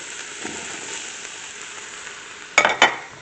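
Onions and leek fry in a pan with a low, even hiss, then two quick, louder stirring scrapes close to the end.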